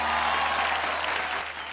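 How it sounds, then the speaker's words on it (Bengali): A brief burst of audience applause, many hands clapping steadily at moderate distance, fading slightly toward the end. "তার জন্য একবার জোরে হাততালি।"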